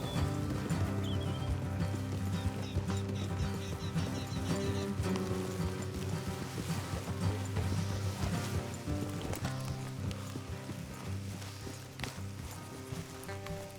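Horse hoofbeats clopping along in Red Dead Redemption 2 under a loud, steady wash of music and ambience, with a faint whinny; no one speaks.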